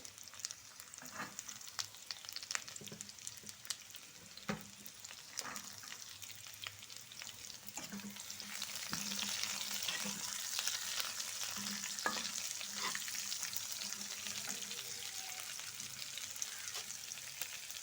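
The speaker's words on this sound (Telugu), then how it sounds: "ఇప్పుడు ఇందులో మనము పచ్చిమిరపకాయలు వేస్తున్నాము ఉల్లిపాయలు" Green chillies and onions frying in a pan for radish (mulangi) curry, a continuous close sizzle that swells louder midway, with occasional scrapes and knocks of a spoon being stirred, no talking.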